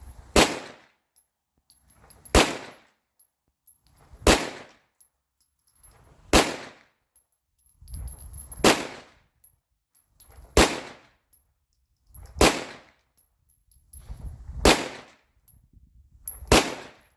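A Springfield SA-35 Hi-Power pistol, recently refinished, fires nine sharp, loud shots at a steady pace of roughly one every two seconds, each crack followed by a short ringing decay, with no talking.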